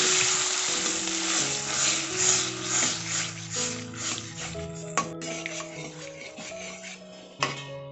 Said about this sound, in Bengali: কাঁঠালের বীজগুলো সব মশলার সাথে খুব ভালোভাবে কষিয়ে নিয়েছি এবার এখানে আমি পরিমাণ মতো জল অ্যাড করছি